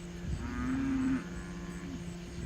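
Cattle on a farm give a single drawn-out moo at moderate distance, rising and holding for under a second before fading, with quiet outdoor background and no talk.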